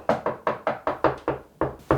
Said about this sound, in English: Never thought that I would be knocking on the wall like this